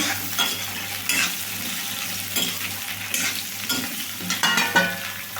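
Drumstick and bean pieces for a vegetable sambar frying in a pan, a steady sizzle broken by repeated scraping and clinking stirs, close and fairly loud throughout.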